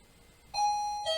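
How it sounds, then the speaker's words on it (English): An electronic doorbell chime inside a hotel rings out in a quick two-note ding-dong, bright and clear against near silence. "Or do you like the doorbell better?"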